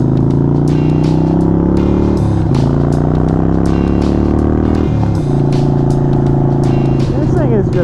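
A 2013 Harley-Davidson Sportster 48 motorcycle roars loudly while riding, its engine note rising through gears with brief dips at shifts, a steady close, heavy rumble throughout with a voice talking over it.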